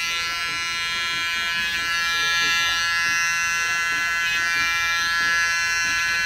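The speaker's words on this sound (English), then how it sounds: "That's with my Gamma EX Evo trimmers." Gamma EX Evo hair trimmers buzz steadily at close range with a high, even electric whine while cutting hair in a barbershop, unbroken for several seconds.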